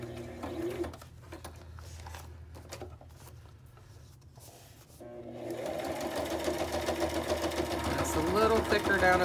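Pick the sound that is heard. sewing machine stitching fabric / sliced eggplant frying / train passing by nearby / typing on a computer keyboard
sewing machine stitching fabric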